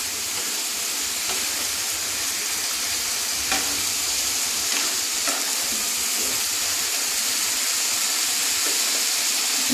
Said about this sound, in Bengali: একটু ভালো করে নাড়তে হবে।